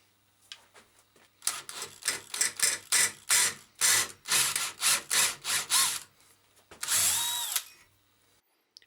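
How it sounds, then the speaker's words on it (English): A power drill with a 9mm bit boring a hole at one end of a mounting bracket for a folding table saw outfeed table, in about a dozen loud, rhythmic bursts of whirring and grinding, then one longer final burst. "At each end of the mounting bracket, I mark the centre point and drill a hole using a 9mm drill bit."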